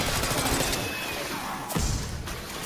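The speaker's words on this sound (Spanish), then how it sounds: "Pues nada, sigue disparando." Dense, noisy gunfire in Black Ops 6 Zombies, a sustained wash of rapid shots with a sharper crack near the middle, close and loud throughout.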